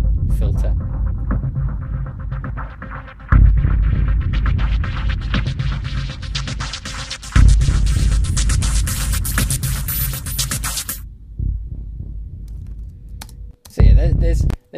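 Sample Logic Rumble synthesized effect, a deep throbbing rumble with a filter sweeping open so the hiss climbs and brightens, recurring in swelling bursts that cut off abruptly.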